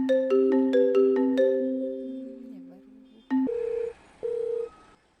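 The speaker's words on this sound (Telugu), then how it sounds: "ఇంకోసారి కాల్ చేద్దాం, లిఫ్ట్ చేసిద్దాము." A phone call is placed: a quick run of rising dialing tones, then a pause, followed by two long repeated ringback tones.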